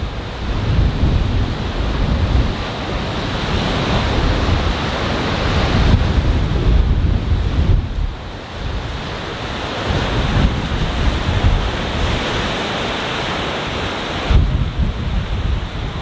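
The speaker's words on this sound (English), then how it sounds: "Just look at the waves, how powerful they get." Powerful ocean waves crash and surge at Devil's Punch Bowl Arch on the Oregon coast during a windstorm, a loud, continuous roar of surf with heavy wind buffeting the microphone and periodic swells of booming water.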